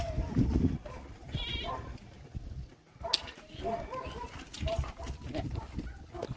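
Goats bleat at a livestock market before Bakra Eid, several calls near and far mixed with crowd chatter and people talking.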